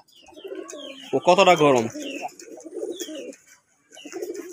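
A male pigeon gives a loud, close throaty coo that rises and falls for about a second, followed by softer murmuring calls. Someone speaks briefly alongside the bird.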